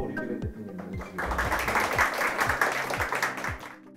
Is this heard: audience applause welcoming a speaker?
yes